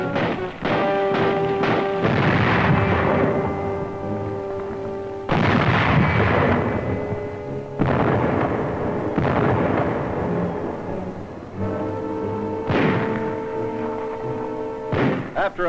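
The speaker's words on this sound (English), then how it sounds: "The Nazis direct their fire across the harbor." Artillery in a 1939 newsreel bombards Polish harbor defenses at Gdynia: a series of heavy, booming blasts at irregular intervals, each with a long rumbling decay, loud and close.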